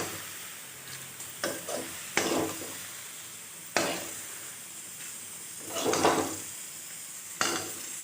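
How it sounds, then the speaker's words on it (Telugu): Thootkoora fry is stirred in a pan on the stove, with a steady sizzle broken by several scraping, clattering spoon strokes against the pan, close and moderately quiet. "కలిపేసి స్టవ్ ఆఫ్ చేసుకుందాం."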